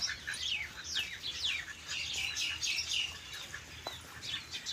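A pair of ducks, one male and one female, give repeated high, chirpy calls, several overlapping in a quick scattered series at moderate distance, with no talking.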